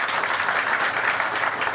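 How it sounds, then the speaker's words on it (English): A crowd at a governor's announcement event on Long Island gives a dense, steady round of applause, loud and continuous with no speech over it. "Give Kevin a big round of applause."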